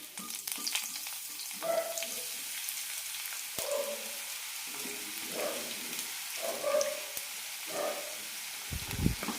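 Sliced onions fry in hot oil in a pan for a yam flower masala curry, giving a steady close sizzle and hiss with occasional louder crackles as they are stirred.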